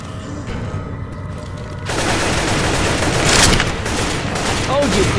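Gunfire in the zombie shooter Left 4 Dead 2, dense rapid shots and bursts becoming louder and continuous partway through, with a voice speaking over the fight.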